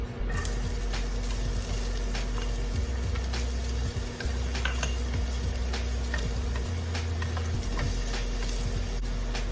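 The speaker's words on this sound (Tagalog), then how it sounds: "What I do is I cook my carrots first." Carrots cook in a hot pan as the first step of a garlic fried rice, giving a steady close sizzle with scattered ticks and scrapes of stirring throughout, with no talk.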